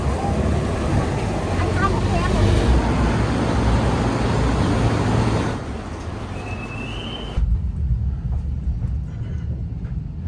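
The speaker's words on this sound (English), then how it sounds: "I'm on train number 1 of 2 from Zurich HB." Passenger train pulling out of Zurich HB, its interior filled with a steady, loud rumble of wheels and motion that drops to a quieter hum near the end.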